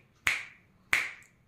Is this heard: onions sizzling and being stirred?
no